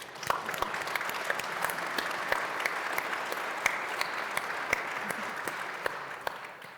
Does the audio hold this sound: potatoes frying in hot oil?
no